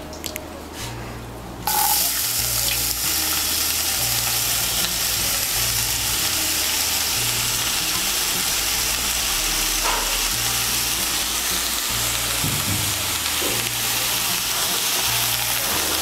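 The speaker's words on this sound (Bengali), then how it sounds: "চাল কুমড়োটাকে আমি তেলের সঙ্গে ভালো করে মিশিয়ে নেব।" Chopped ash gourd hits hot oil tempered with whole cumin, bursting into a loud, steady close sizzle that continues unbroken as it is stirred and mixed, with no speech.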